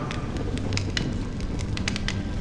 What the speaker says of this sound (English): only when I look at this vibrant red fire do I realize that I'm still alive.